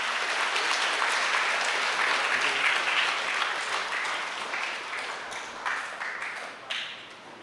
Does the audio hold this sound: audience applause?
yes